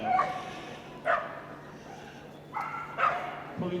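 Border Collie bitch, six years old, barking in bursts during a Crufts agility team final, a few sharp yips spaced across the moment over a soft arena background.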